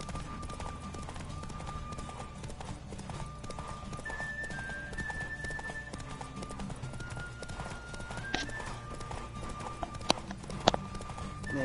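Rapid rhythmic hoofbeats of a galloping horse in The Witcher 3 on PS4 drum steadily throughout, with a whinny and sharp effects layered over a low background hum.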